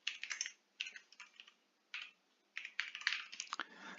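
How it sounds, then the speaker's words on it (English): Close typing on a computer keyboard comes in quick clattering bursts separated by short pauses, with no talk over it. "excuse my typing."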